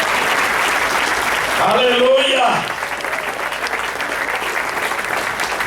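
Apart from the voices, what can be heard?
applause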